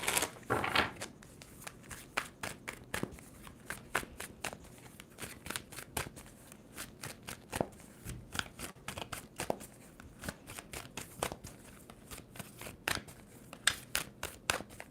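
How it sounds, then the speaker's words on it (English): Tarot cards riffled and shuffled repeatedly in quick crisp bursts, close up, with soft snapping and flicking and no talking. "Two more shuffles for Libra."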